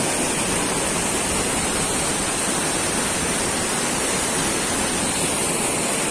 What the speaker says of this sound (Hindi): पानी इधर से गिर रहा कल कल कल कल पानी का आवाज